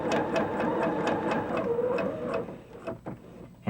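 A sewing machine stitching a curve with a short stitch length, a rapid, even mechanical chatter running close and steady, then slowing and stopping near the end.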